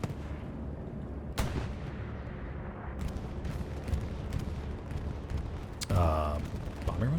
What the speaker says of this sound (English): Bombing run's coming in. This will be an Axis bombing run.